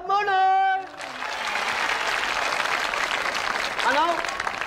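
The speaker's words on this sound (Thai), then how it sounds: "ปรบมือหน่อย" Studio audience at a Thai comedy show with a haircutting contest breaks into clapping after a voice finishes speaking, a steady burst of applause that holds for several seconds before another voice cuts in over it.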